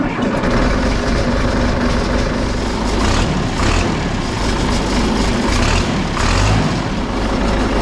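A John Deere tractor's diesel engine fires up and runs steadily with a chugging, clattering idle, loud and close, with no talking over it.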